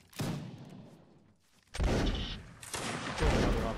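Musket volleys crack out in a video game line battle between regiments of foot: a ragged opening fusillade, a lull of lighter fire, then two more heavy rolling volleys in quick succession, loud and dense.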